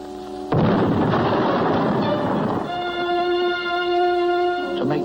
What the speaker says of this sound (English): decides to shoot off this ancient cannon to attract the Black Menace